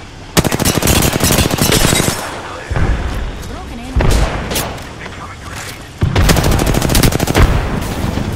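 Bursts of automatic gunfire from an Apex Legends match, with loud rapid volleys in three stretches separated by brief thuds and lulls, mixed with game voice lines.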